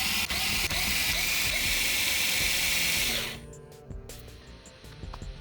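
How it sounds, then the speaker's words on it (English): An electric screwdriver fitted with a string-winder attachment loosens the strings on a Floyd Rose guitar, giving a steady close motor whir for about three seconds, then stopping into faint clicks and handling noises. "I grab my trusty electric screwdriver thing with a string winder attachment on it and loosen the strings as you see here"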